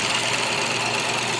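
A Ford Focus three-cylinder EcoBoost engine runs in a steady, close, buzzing drone with a slight knocking texture throughout.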